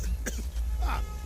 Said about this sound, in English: this kind cough na serious matter